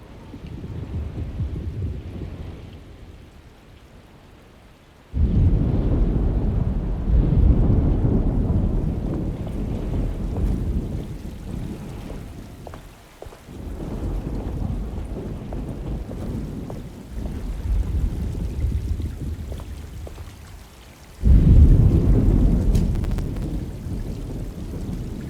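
Thunderstorm with rain in the horror video game Alone in the Dark: steady broadband rain and wind rumble with loud thunder swells striking near the start, middle and end, no voices heard.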